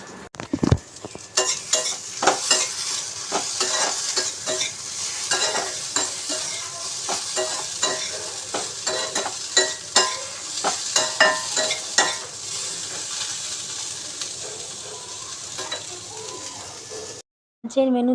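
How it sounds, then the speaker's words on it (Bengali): Puffed rice (muri) is mixed by hand for breakfast in a home kitchen, making a continuous dry crackling rustle with rhythmic scraping and tapping strokes, close and fairly loud, then a brief silence near the end. "এই এখন ব্রেকফাস্ট তৈরি করবো। মুড়ি মাখামাখি হবে।"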